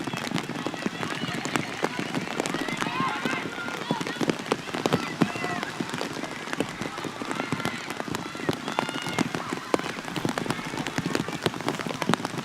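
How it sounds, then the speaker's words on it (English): Steady heavy rain pattering over an open soccer stadium during a Rutgers at Penn State women's match, a dense continuous hiss with a commentator talking over it throughout. "the rain looks like it's coming down even harder now"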